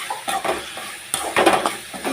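Tomatoes with salt and turmeric frying in a pan, stirred with a utensil that scrapes and clinks against the metal in a few uneven bursts over a soft sizzle, close and moderately loud with no talking.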